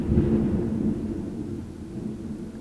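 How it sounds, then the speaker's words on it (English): Thunder outside rolls as a low, sustained rumble, strongest at the start and slowly fading, heard alone without speech. "Oh my god, it's really thundering out there."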